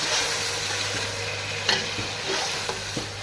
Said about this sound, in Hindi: अब ये टमाटर, अदरक, लहसुन और हरी मिर्च वाला पेस्ट मैं इसमें डाल दूँगी